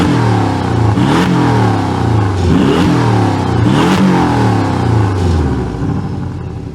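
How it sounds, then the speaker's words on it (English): A Porsche 718 Boxster S sport exhaust roars loudly as the engine is revved several times in quick succession, each rev rising and falling, before settling toward idle. "Let's hear how all that sounds with the blacked out sport exhaust."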